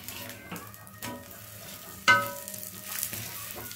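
Ragi adai, a finger millet flatbread, cooks slowly on a pan over low heat with a soft, steady sizzle. A brighter clink of a utensil rings out about halfway through, and no one speaks.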